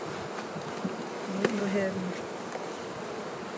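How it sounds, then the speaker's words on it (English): Honey bees hum and buzz around hive boxes at a club apiary during spring colony splits, a dense continuous drone close by, with a brief spoken phrase partway through. "And we still have a box of bees next door, too."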